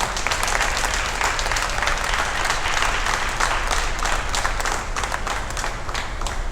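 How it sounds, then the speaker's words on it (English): Sustained audience applause for exhibitors at a national goat show, a dense, steady roar of many hands clapping throughout that stays loud and even with no speech over it. "Please give these exhibitors a round of applause."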